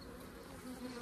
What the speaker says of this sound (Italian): stiamo sentendo la nascita di 5 api